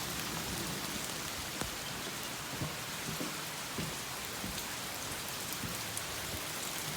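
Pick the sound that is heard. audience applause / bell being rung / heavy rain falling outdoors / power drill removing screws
heavy rain falling outdoors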